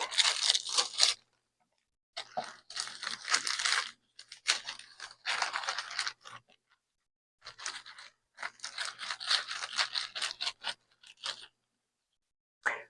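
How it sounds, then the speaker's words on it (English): Crisp crinkling and rustling of a plastic Ziploc bag in several bursts separated by short silences, close to the microphone, with no voices. "So I'm going to put this in my Ziploc bag."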